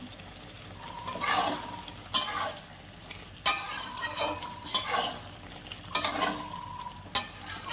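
Drumstick chorchori being stirred in a pan, repeated sharp scrapes and clinks of a metal spatula against the pan at irregular intervals over a soft sizzle.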